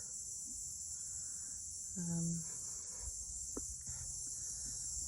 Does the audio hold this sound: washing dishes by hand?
no